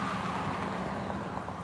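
A car passes along a road, a steady broadband roadway rumble with tyre and engine noise holding level throughout and no voices.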